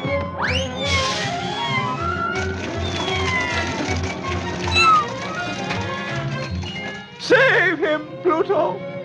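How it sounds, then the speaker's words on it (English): A cartoon kitten meows and cries in a Donald Duck and Chip and Dale cartoon, with high, wavering mewls over busy orchestral music and a sharper cluster of cries near the end. "Save the poor little kitty."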